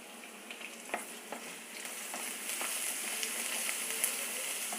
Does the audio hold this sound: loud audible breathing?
no